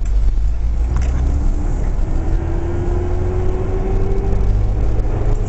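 A manual transmission car pulls away from a stop in first gear, its engine holding a loud steady low rumble throughout, with a faint rising tone as it gathers speed.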